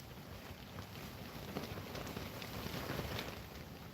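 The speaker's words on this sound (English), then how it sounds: "Wow, it's windy." Strong wind buffets the microphone outdoors at Torrevieja, a steady broadband roar that swells toward the end with no talk.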